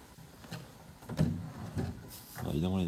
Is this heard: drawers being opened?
yes